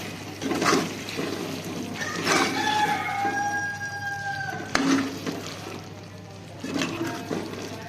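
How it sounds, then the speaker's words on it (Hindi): A rooster crows in the background, a long drawn-out call at moderate distance, over steady room noise and faint clattering, in a home kitchen in Pakistan while liver curry cooks. "मुर्गा सारा दिन अजाने देता रहता है।"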